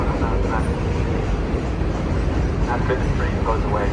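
A train passes during an outdoor candle vigil protest, a loud, steady rumbling roar filling the scene, with people talking faintly over it.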